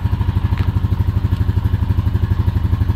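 A brand new 2021 Honda Rancher FM1 4x4 ATV engine idles just after starting, a loud, close, steady rhythmic chugging putter with even pulses and no revving.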